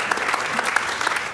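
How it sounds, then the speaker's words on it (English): A short, brisk burst of audience applause in a game-show hall, many hands clapping at close range with a faint voice mixed in. "Give yourselves a round of applause."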